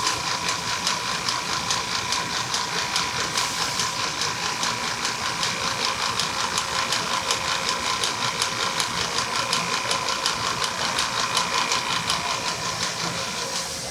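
A sewing machine stitches a leather piece onto the outside of a boot at a workshop making gear, running as a steady fast mechanical chatter for the whole stretch, close and even, with no voices.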